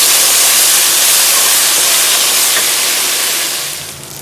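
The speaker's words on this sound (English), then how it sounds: "in the very same pan on medium-high heat, I'm going to add the onions" Onions cook in leftover beef fat in a pan over medium heat, giving a loud, even sizzling hiss that holds steady before easing off slightly at the end.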